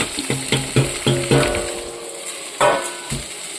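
Okra and potatoes sautéing in a pan, a steady sizzle broken by a series of rhythmic scraping stirs, close and fairly loud.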